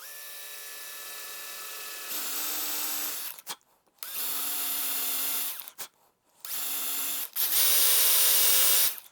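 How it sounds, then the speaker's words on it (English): Power drill boring a small pilot hole into the end grain of a wooden board: a steady high whine in several bursts of a few seconds each, separated by short pauses, with no talk over it. "I'll just do a small pilot hole for the screw. As we're screwing into end grained, I don't really want to take any chances."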